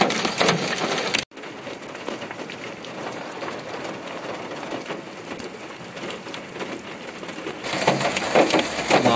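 Heavy rain mixed with hail pours down outdoors in Aksy, a dense steady hiss with scattered hard ticks and patters, louder bursts at the start and end, with no talking.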